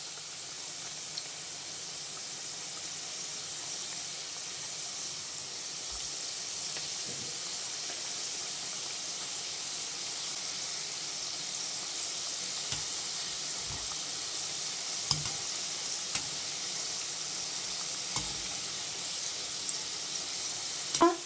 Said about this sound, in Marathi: आता आपण हे छान तळून घेऊया